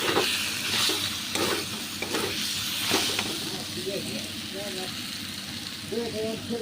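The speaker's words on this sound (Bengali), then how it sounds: "এই যে এটা হচ্ছে বেগুন আলু সয়াবিন দিয়ে তরকারি বানাচ্ছি।" Eggplant, potato and soybean curry sizzles in a pan in a village kitchen, with steady frying hiss broken by several sharp stirring scrapes in the first few seconds, and a faint voice appearing later.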